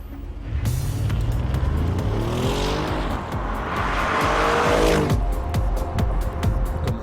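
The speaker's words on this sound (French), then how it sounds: "la RS7 se fait entendre en pleine accélération" An Audi RS7 engine roars and revs upward on a track, rising in pitch as it accelerates hard, with a tire squeal and a rumbling shift midway.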